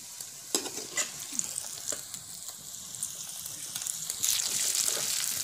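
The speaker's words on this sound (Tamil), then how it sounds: "இப்போ பொன்னிறமாக நல்லா பொரிச்சாச்சு" Plantain slices deep-fry in hot oil with a dense, bright sizzle and occasional stirring clicks, the bubbling swelling louder toward the end.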